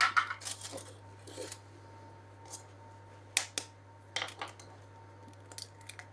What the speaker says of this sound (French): On va venir y casser mes 2 œufs l'un après l'autre